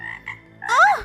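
A frog croaks three times close by: two brief, steady notes, then a longer, louder warbling croak that bends in pitch.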